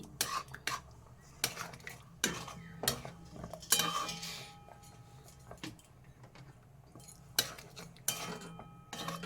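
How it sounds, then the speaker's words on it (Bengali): Kashmiri chillies and green chillies go into a pan and are stirred, heard as quiet, scattered clinks and scrapes of a utensil against the pan with a soft background hiss. "এবার লঙ্কাগুলো দিয়ে দিচ্ছি কাশ্মীরি লঙ্কা দিয়ে দিচ্ছি এখানে গ্রিন চিলি"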